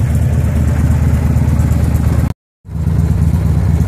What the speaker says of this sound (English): 80-year-old Margaret Bishop gonna ride on a Harley Davidson Fat Boy.